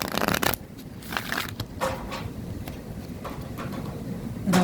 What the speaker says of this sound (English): 7 shuffles for each deck.